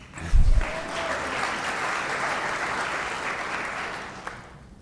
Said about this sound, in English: I'm not used to so much applause during my messages.